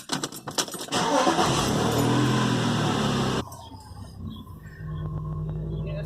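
A car's engine cranks and catches after new brake pads are fitted, with a brief clatter of keys, a loud roar for a couple of seconds, then a drop to a steady idle nearby.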